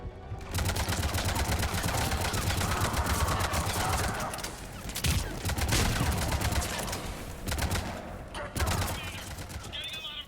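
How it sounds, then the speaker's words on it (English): Mortar fire and rapid gunfire in a video game battle, dense bursts of shots and booming impacts rolling continuously, loud and close, with brief lulls between volleys. "Getting a lot of mortar fire."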